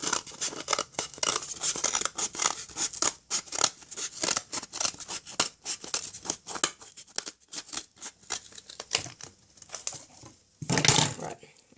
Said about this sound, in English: I should probably be using a smaller pair of scissors